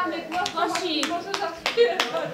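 An audience claps at a school event marking the International Day of Persons with Disabilities, brief, loose, sparse clapping close by, with voices speaking over it.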